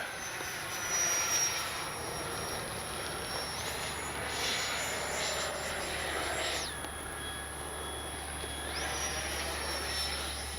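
An FMS 70mm Yak 130 V2 electric ducted-fan RC jet flies overhead, a thin high whine sliding in pitch as it passes and turns over a steady outdoor noise bed, moderately distant.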